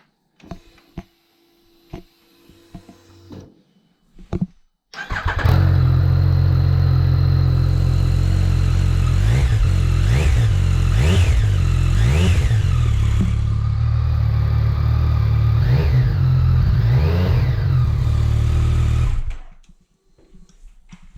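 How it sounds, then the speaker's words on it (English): A Yamaha MT-09 motorcycle fitted with an Akrapovic titanium exhaust, decibel killer still in place: after a few clicks and clunks the engine starts and idles loudly and steadily with several throttle blips, then shuts off. "I'm gonna start the bike."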